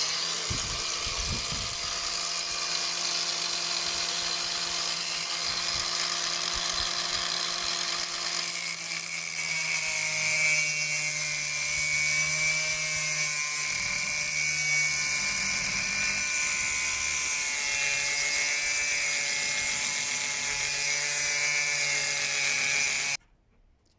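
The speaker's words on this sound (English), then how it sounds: "I've got my little grinder here. This is my 18-volt one." An 18-volt cordless grinder, a DJA 452, cuts down the side of a drill chuck's thread, a steady high whine running loud for over twenty seconds with the tone shifting as the disc bites, then stopping abruptly.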